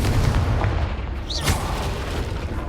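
Confringo spell explosion in Hogwarts Legacy: a deep booming blast with a short sharp flare of sound near the middle, set against a loud rumbling game background, no talking.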